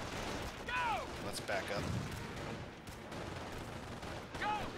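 Scattered gunfire crackles in Company of Heroes, sharp reports popping over a busy battle din, while voices speak over the shooting.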